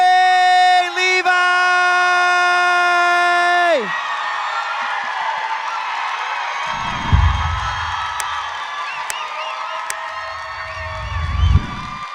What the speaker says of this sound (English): Please give a huge round of applause, everybody, for Zachary Levi!